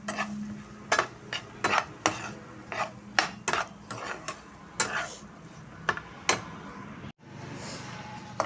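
Dates being roasted in a pan for winter fenugreek laddoos, stirred with a utensil that scrapes and taps the pan in repeated irregular strokes, fairly close, over a soft background hiss, with no talk.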